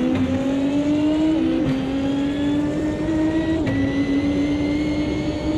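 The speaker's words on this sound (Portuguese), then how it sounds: "Eu adoro a passagem de marcha." Race car engine in the Automobilista 2 sim racing game at Adelaide, holding a steady loud drone with two distinct gear shifts where the pitch drops and climbs again, no talk over it.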